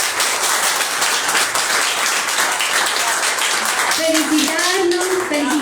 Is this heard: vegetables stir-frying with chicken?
no